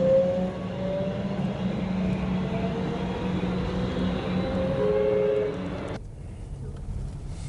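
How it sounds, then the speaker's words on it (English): Steady rumble of a commuter train ride in Australia, a continuous low drone with faint tonal whines from the rails, cutting to a quieter hum near the end. "I get on the train"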